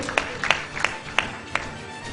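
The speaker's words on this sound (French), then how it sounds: "des applaudissements pour Marie Diop" Scattered, sparse handclaps from a small audience at the final of a French spoken-word competition (Champion des Mots) greet Marie Diop, a handful of distinct claps close by over quiet room noise.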